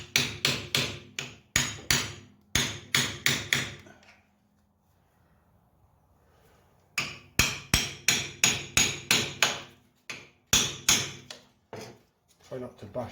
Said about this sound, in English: I think that I can just chisel this one out